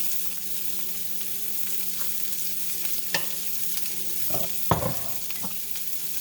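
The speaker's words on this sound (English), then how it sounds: "I love to smell onions frying." Diced onions sizzle in butter in a pan, with a soft steady frying hiss and several scraping stir strokes clustered toward the end, quiet and with no voices.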